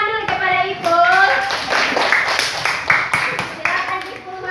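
Students in a classroom clap together for a classmate who is called up to the front: brisk, close-up group clapping mixed with children's voices and a teacher speaking.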